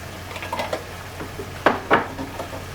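A utensil scrapes and knocks against a pot while minced meat and minced garlic are mixed together, a few irregular clinks and scrapes of moderate loudness over a quiet background.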